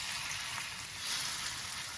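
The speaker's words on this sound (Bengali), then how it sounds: "তেলও গরম করতে বসিয়ে দিয়েছি, এবার ভাজবো।" Thin pakoras frying in hot oil: a steady, dense crackling sizzle, close and continuous, fairly quiet, with no talk.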